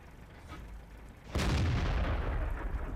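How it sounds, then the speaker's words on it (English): A tank cannon fires in World of Tanks gameplay with a T-44-85, a single loud boom that cuts in sharply and leaves a sustained rumbling roar behind it, heard alone. "I'm thinking I might have tracked him, so I'm going to fire a few blind shots here"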